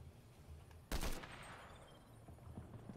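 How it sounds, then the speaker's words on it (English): Gunfire in an online shooter, with one loud, close burst of shots standing out briefly against quieter background fire from several directions. "There's a lot of shots coming from everywhere."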